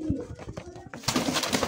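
Baby pigeons among fancy breeds for sale, a few short low coos close by, followed by a rustling burst of movement and fluttering.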